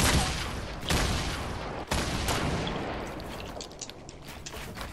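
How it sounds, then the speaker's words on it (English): Heavy gunfire rattles through a video game battle, with dense bursts and booming shots close and loud at first, then thinning into scattered, sharper cracks as the volume eases. "Oh, shoot, they're shooting."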